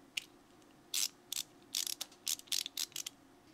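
A Vessel 2200MBH ratcheting ball-handle bit holder clicks in quick sharp bursts as the ratchet is worked back and forth, close and crisp against a quiet background.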